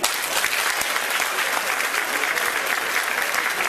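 An audience at a music event in Sydney breaks into loud, sustained clapping that fills the hall for several seconds with no break.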